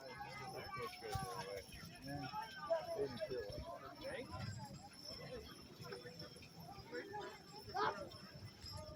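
Horses' hooves clip-clop steadily at a walk during a six-horse hitch show at a county grange fair, with people talking over them throughout.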